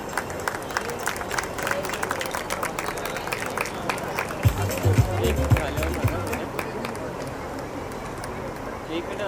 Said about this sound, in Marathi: एकदा जोरदार टाळ्या वाजून आपण मान्यवरांचं स्वागत करूया